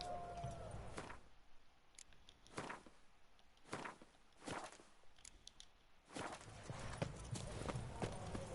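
Horse hooves clip-clop at a walking pace in The Witcher video game, with a series of distinct, fairly close hoofbeats over a low, quiet ambient background.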